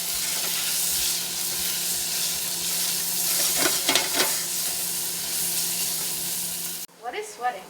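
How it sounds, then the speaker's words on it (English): Half an onion sweats in a pan with a steady hiss and a few stirring scrapes, then the sizzle cuts off sharply near the end and a short voice follows. "Now we're just going to add in half an onion. And we're going to start sweating."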